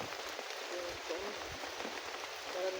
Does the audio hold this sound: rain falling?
yes